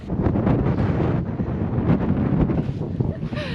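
Strong wind buffeting the microphone at the Quiraing on the Isle of Skye, Scotland, a continuous loud rumble and roar throughout.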